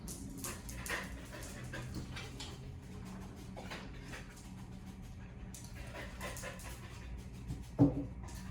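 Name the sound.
dog sniffing hard during nose work search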